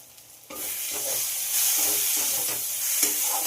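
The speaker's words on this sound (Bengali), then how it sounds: "আবারও সব মশলাগুলোকে খুব ভালো করে কষিয়ে নিতে হবে।" Spices fry in a pan for tarka dal, stirred constantly; after a quieter start a loud, close sizzle swells up and holds steady, with scraping strokes of the spoon running through it.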